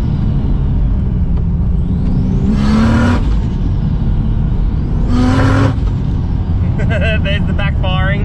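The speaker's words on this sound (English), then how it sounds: "There's the backfiring." FG Ford Falcon with a Barra turbo engine that has a misfire, revving loudly in two swelling bursts with rumbling drone and sharp pops from the exhaust, close and continuous.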